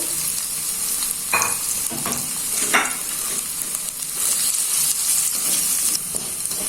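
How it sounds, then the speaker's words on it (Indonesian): Continuous sizzling and crackling of tempeh frying in hot oil until dry, loud and close, with occasional stirring scrapes. "untuk tempenya ini saya ya goreng dulu"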